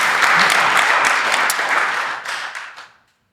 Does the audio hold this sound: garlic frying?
no